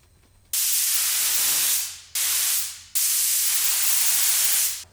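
A spray gun lays base coat paint onto the body of a 650HP turbo M50 E30 in three loud, close hissing bursts, each cut off sharply with brief pauses between.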